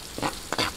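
Chopped onions softening in a hot pan for pancit Malabon, a steady frying sizzle broken by two short bursts of stirring scrapes, close and moderately loud with no voices.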